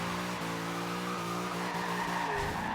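Subaru BRZ drifting in Forza Horizon 2, a loud steady tire skid and screech over a constant engine drone, held for the whole stretch.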